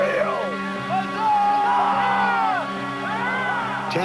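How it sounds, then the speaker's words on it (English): Union soldiers at a Civil War re-enactment of the Battle of Cedar Creek cheer and whoop as General Sheridan arrives at the front; close, overlapping yells rise and fall in loud waves. "As his men cheer"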